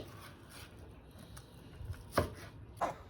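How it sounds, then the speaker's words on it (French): Knife chopping shallots on a board, a few sharp distinct cuts near the end over a quiet kitchen background. "on va couper les échalotes"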